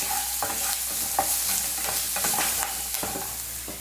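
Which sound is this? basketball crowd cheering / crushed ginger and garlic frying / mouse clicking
crushed ginger and garlic frying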